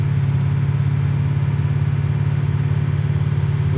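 Car engines in the survival video game Taora: Survival drone steadily and loudly, a constant mid-pitched running hum with no breaks and no talking.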